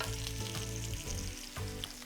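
Shishito peppers with salt and pepper sizzle gently in a pan, a soft continuous frying hiss with a low hum underneath, quiet and close, no voices.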